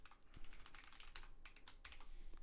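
Fast keystrokes on a computer keyboard as a password is entered during an admin account setup, a steady run of close, crisp clicks with brief pauses, no talking.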